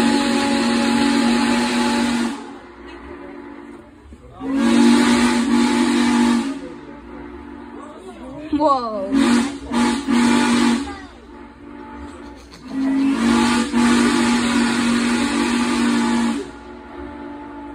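Steam locomotive 611 sounds its whistle in several long, loud, sustained blasts with brief gaps and a fluttering hiss between them, heard from nearby, with a voice briefly exclaiming.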